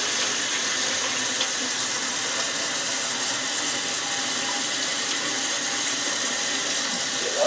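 Tap water runs steadily into a kitchen sink as rice is rinsed, a constant close, loud splashing rush with no talking.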